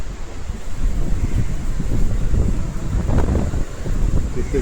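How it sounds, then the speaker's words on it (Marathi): Steady roar of heavy monsoon rain driven by strong gusting wind at a metro station, loud and continuous throughout without a break. "जोरात पाऊस पडतो"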